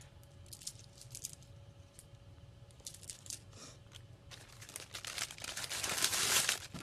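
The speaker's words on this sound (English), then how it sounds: "Sorry for the crinkling plastic." Plastic packaging crinkles in close, irregular bursts that grow louder and busier toward the end, with no talking.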